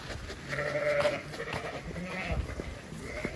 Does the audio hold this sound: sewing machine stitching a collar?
no